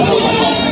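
A loud, close goat bleat at a goat market, a single wavering cry held for under a second.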